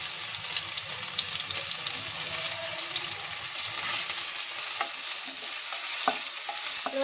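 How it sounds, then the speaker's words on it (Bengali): Crushed garlic fries lightly in a pan with a steady, close sizzle that runs throughout, broken now and then by a few brief clicks of stirring near the end. "রসুনটাও আমি হালকা ফ্রাই করে নেব।"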